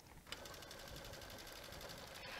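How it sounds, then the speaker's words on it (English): Baby Lock Solaris 2 sewing machine stitching an embroidery design, a steady close whirring hum with a fast needle patter, even and continuous throughout. "So let's just sew this."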